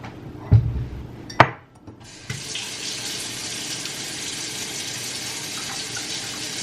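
A couple of sharp knocks, then a tap turns on and water runs steadily into a sink, a continuous close hiss.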